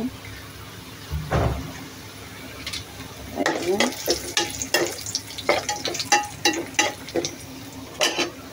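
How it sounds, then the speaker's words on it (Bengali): Chillies drop into hot oil in a pan, setting off bursts of crackling sizzle and spattering pops, with clusters of sharp snaps over a low steady frying hiss. "এখানে আমি কয়েকটা মরিচ দিয়ে দিচ্ছি"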